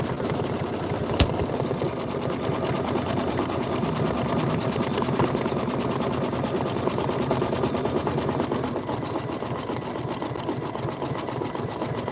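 Embroidery sewing machine stitching a design into a mini quilt, a fast steady mechanical needle clatter humming evenly for the whole stretch, close and alone with one brief click early on.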